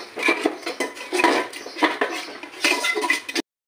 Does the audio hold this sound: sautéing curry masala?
yes